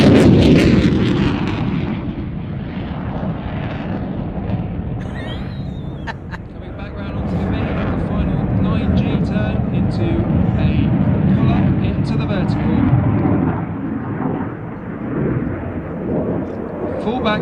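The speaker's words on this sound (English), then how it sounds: "Full back stick, burners on, he's going to exit the display." An RAF Typhoon jet at an air display lights its afterburners and climbs away, a loud, sustained, rumbling roar that swells and fades over about seventeen seconds.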